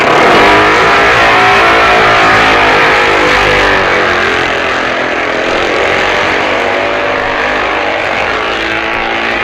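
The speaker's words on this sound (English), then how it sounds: "as Hailwood approaches Quarter Bridge, Woodman and Dunphy in second and third places set off after their pit stops" A loud, continuous racing engine from an MV racing motorcycle at the 1965 Isle of Man TT roars close by with a steady, dense tone that eases slightly midway, and no voices.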